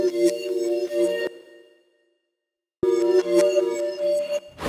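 Bell samples from a retro video game, reversed and chopped into bursts, ringing metallic tones that cut off abruptly, then a silent gap of over a second before the chopped bells return sharply, with no talking.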